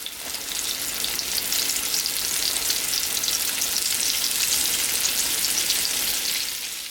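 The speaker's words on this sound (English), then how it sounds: "probably the entire time that you frying your fish, it's gonna be about 7 to 9 minutes" Loud, continuous sizzling of catfish fillets frying in hot oil in a skillet, a dense crackling hiss that swells in and stays steady.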